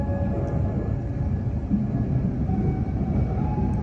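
Harina express train pulling out of Pekalongan station at night, a steady loud rumble of wheels and carriages, continuous and close, with no voices.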